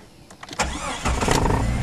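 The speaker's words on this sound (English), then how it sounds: "I'm sure all of you car people are wanting to see, hear it fire up" A Jeep engine cranking and firing up, a brief starter whir then the engine catching and settling into a loud, close rumbling idle.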